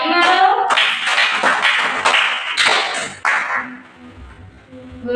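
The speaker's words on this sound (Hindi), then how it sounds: "ताली मारो।" A group of children in an early childhood colour-identification activity clap their hands in a series of loud, rhythmic bursts, then fall quiet as a voice begins speaking near the end.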